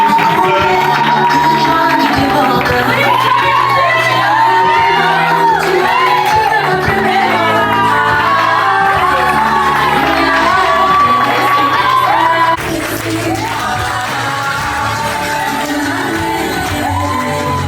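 Wedding guests at a civil wedding ceremony cheer, shout and whoop loudly for about seventeen seconds, a dense and steady crowd din of excited voices that eases slightly toward the end.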